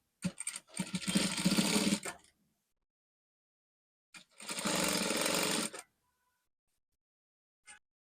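A sewing machine stitching the strap casing of a jumpsuit, running in two steady bursts of about one and a half seconds each, close and alone, with a brief click at the end.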